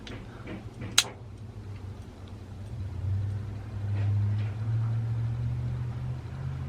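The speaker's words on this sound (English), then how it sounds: "I can hear the switching valve switching, so I'm assuming that's working" A fuel tank switching valve in a K30 square body truck gives a sharp click, with lighter ticking around it, over a low steady engine hum that swells slightly later on.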